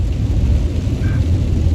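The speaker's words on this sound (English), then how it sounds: "It's been raining non-stop" Heavy, steady rain roars on a car during a road trip near Sedona, Arizona, a dense, continuous low rumble with no break and no voices.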